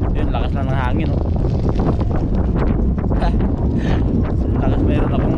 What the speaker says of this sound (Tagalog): Yun, lakas lang ng hangin.